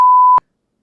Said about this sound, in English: beep it out if you are going to put it in the pod